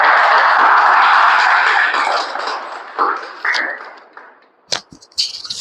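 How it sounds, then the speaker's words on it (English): A meeting audience gives a round of applause for Rishabh, invited up for a table topic. Dense, steady clapping holds for about three seconds, then thins into a few scattered claps and fades. "Big round of applause for Rishabh, please."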